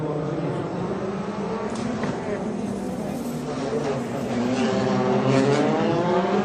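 Rally cars drive a Rally Portugal 2014 stage, their engines giving a continuous loud, revving roar that builds slightly toward the end, with a commentator talking over it.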